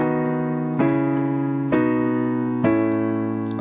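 A piano plays a descending chord walk-down from E, with four sustained chords struck at an even, unhurried pace. Each chord rings clearly and close, then lets the next step down take over, with no voices.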